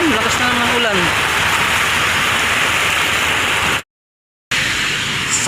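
Heavy rain pours steadily as a dense, loud wash of noise, briefly cutting out to silence before resuming; a voice is faintly heard near the start.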